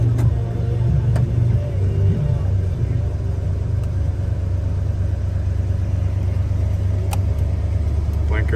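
A 1981 Chevrolet C10 pickup's engine runs at a steady low idle, a close, even rumble that holds throughout with a faint click or two near the start and no voices.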